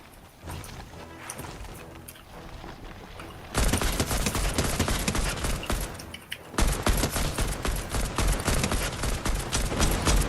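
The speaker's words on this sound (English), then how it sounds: "Got a more powerful assault rifle." Assault rifle gunfire in the video game Fortnite comes as rapid bursts of automatic shots, quieter at first and then turning loud and dense with a short break before firing resumes.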